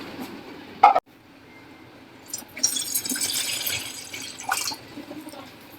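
Water poured into a cooking pot to heat for a maize kadhi, a short bright splash followed by a steady filling stream that wavers in level, close by in a home kitchen.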